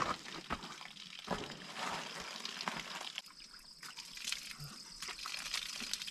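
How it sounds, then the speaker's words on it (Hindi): Water trickles and splashes steadily close by from a bamboo pipe carrying hill rainwater, with a few sharper drips and spatters breaking through the flow, near the Tripura–Mizoram border. "पहाड़ में ऊपर से बारिश से पानी आता, फिर नीचे बैम्बू लगा रखा है इन लोगों ने।"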